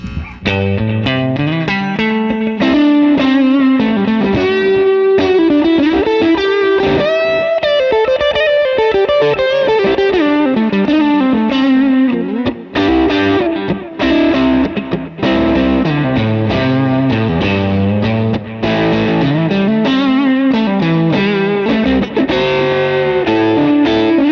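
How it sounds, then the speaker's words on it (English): Electric guitar through the clean channel of a Mesa Boogie Lone Star amp, roughened by a Love Pedal for mild grit. The playing is continuous and loud, with chords and melodic runs and no talking. "I might want to kick in the love pedal for just a little bit of that kind of grunginess"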